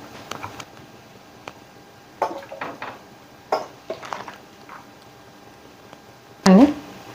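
A cooking pot is set down on a kitchen stove, with a few light metallic clinks and knocks followed by one loud, close clank near the end.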